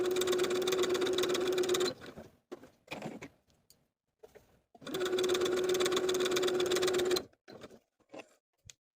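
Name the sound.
sewing machine basting long stitches along fabric edges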